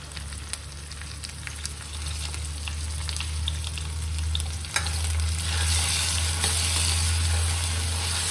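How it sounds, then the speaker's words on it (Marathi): Tomatoes roasting in a pan with fried onion for sambar, a steady close sizzle with light stirring clicks that swells louder partway through as the pan heats up, and no talking. "आणि आता त्याच्यामध्ये मी टोमॅटो टाकून भाजून घेते।"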